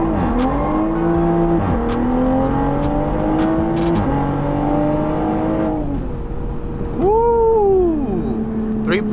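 A tuned BMW B58-powered sports car with an FI exhaust and stage 2 tune accelerates hard through several gears, its rising engine note broken by quick shift gaps and exhaust crackles, loud and close from inside the car.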